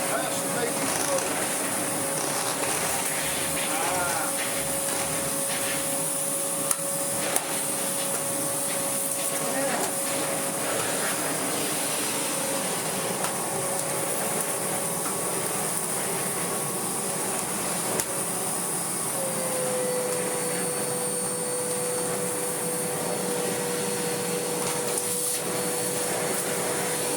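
A restored Kärcher VC3600 canister vacuum cleaner drones steadily and close, with a constant whine and a slight pitch shift partway through.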